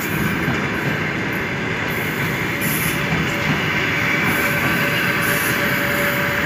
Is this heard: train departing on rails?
yes